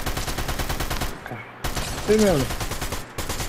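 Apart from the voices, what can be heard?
gunfire in the video game Fortnite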